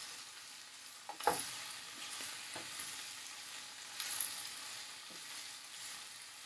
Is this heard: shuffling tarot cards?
no